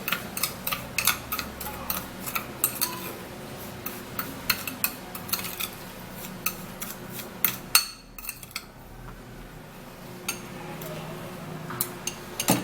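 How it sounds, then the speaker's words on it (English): Coconut oil skincare mixture being stirred in a bowl, a steady run of small spoon clicks and taps against the sides, fairly close and moderately quiet, with a brief pause partway through. "So I'm actually going to be mixing this all up."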